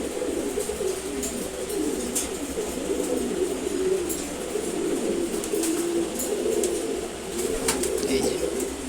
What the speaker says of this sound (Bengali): এই যে মাশাআল্লাহ, খুবই সুন্দর একটা নর কবুতর